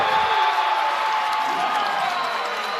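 A Bay Port high school girls' volleyball crowd cheers and applauds in a gym after a back-row attack ends the point, a steady wash of voices and clapping lasting throughout.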